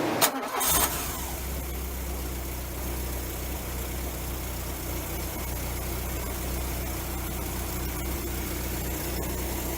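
A 1990 VW Fox engine cranks briefly and catches, then settles into a steady, even idle that continues without a break.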